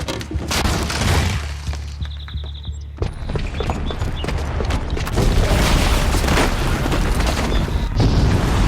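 Explosions and shattering debris of a bomb booby trap going off in Horizon Zero Dawn, with a sustained tone cut off by sharp blasts and then a long, dense stretch of crashing, rumbling destruction.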